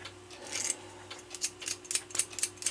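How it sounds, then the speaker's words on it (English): A knife scraping accumulated gunk off a toothpick while cleaning pivot holes during repair of a Regula 25 cuckoo clock, heard as a series of short, close scratchy strokes in an irregular rhythm at low level. "take a knife and scrape off the"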